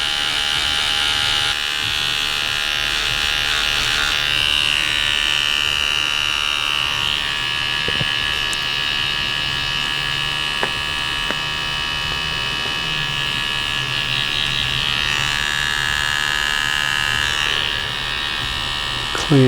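An electric tattoo machine buzzes steadily up close while a rose is tattooed, the high whine running continuously with slight shifts in pitch as it works, under occasional quiet talk.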